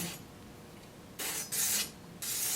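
A knife is sharpened on a Vevor 1x30 belt sander, giving three short, loud bursts of hissing, rasping grinding against a quiet background hum.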